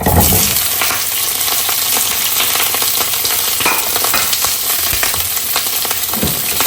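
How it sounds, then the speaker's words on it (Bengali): Pointed gourd (potol) sizzles and crackles steadily in a hot pan, a loud, dense frying hiss with occasional stirring clatter close by and no voices. "আমি এটা কত সময় একটু ভেজে সফট করে নিই পটলটা ভাজি করবো"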